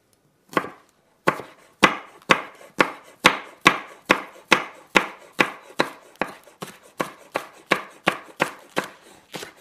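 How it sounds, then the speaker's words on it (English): Green onion being chopped with a knife on a board, about twenty crisp, evenly paced thumps in a quick steady rhythm, close and clear with no talk. "Now I've got green onion. We can practice our chopping skills here too."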